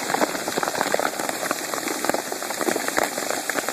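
Hail pelts down hard and steadily on a street and nearby cars, with a dense, continuous crackle of stones striking surfaces close by.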